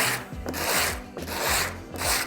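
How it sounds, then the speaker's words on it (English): Metal cuff bracelet edges rubbed back and forth on sandpaper, giving a steady, close rasping scrape in repeated strokes with no talk. "I'm gonna run both my edges down this piece of sandpaper here"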